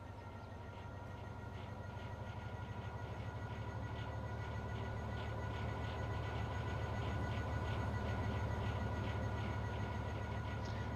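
Locomotive hauling an infrastructure train in Train Sim World 6, a steady rumbling engine drone with rhythmic clicking of wheels over rail joints, continuous and gradually swelling slightly louder.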